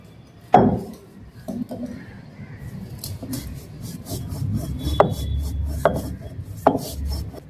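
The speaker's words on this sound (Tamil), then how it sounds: "கொஞ்சம் மிளகு எடுத்துக்கிறோம், அது நம்ம அம்மியில் அரைச்சிக்கலாங்கம்மா." Black pepper being ground on a traditional ammi grinding stone, producing rough rubbing and scraping strokes broken by a few sharp knocks of stone on stone, close by.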